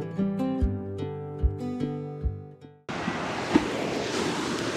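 Adriatic Sea surf on the Croatian coast, a broad steady wash of waves with some wind noise, entering abruptly after a stretch of musical tones.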